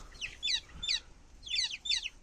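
Chicks peep in quick high chirps, several bursts in pairs, close and clear over a quiet background with no talk.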